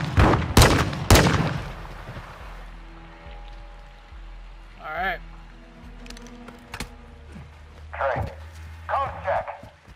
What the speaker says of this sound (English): I just say fuck it and start shooting